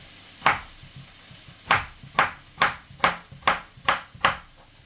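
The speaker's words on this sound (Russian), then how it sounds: "Пока жарится лук, нарезаем 2 небольших моркови." Knife chopping two small young carrots into small cubes on a board, seven sharp distinct knocks in an uneven rhythm, close and clear with no talk.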